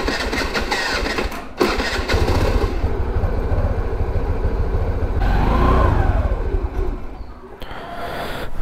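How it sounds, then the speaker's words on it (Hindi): Cold start of a scooter on a winter day using the self-starter, followed by a loud close idle held with light throttle, the engine note rising and dipping in small revs, with no talking. "तो देखो कोल्ड स्टार्ट करने के लिए बस स्टार्ट करूँगा और हल्की सी रेस दे के रखूँगा"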